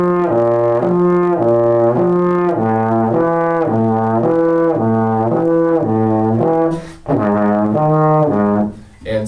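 A trombone plays a lip slur flexibility exercise, stepping through the slide positions from first down to fifth, with smooth connected notes rising and falling in a steady repeating pattern, loud and close, with no talking.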